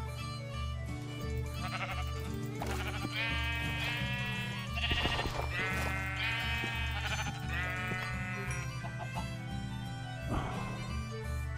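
Sheep in the video game Minecraft bleat repeatedly, several wavering calls spread across the clip over steady background game music, fairly close and clear.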